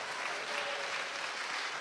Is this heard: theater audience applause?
yes